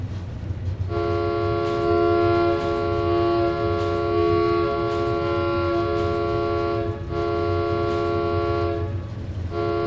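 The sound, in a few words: train horn in Skyrim railroad mod, video game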